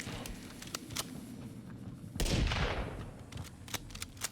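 Rapid gunfire in the survival video game Sons of the Forest, a burst of close, loud shots swelling around the middle amid ongoing game noise and scattered clicks.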